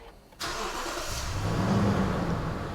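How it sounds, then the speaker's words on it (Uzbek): A Toyota Prado 200-type SUV engine cranks and catches after a short quiet moment, then settles into a loud, steady, rumbling idle close by. "Motorning ovozi ham bilasizlar, vobshe dahshat bo'ladi bularda."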